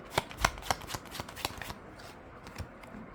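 A deck of tarot cards is shuffled up close, giving a series of sharp riffling bursts in quick rhythm that taper into softer, sparser shuffles.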